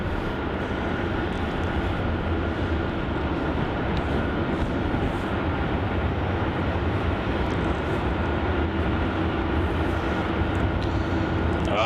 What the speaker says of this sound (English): Looks like that Royal Brunei 787 Dreamliner is at the top of runway 6 and it's rolling already.